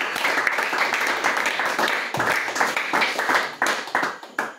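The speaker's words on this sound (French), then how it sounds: "On acclame le Seigneur Jésus." A church congregation applauds in acclaim of the Lord Jesus. The clapping is dense and uneven, with sharper bursts near the end, and the room is loud and close.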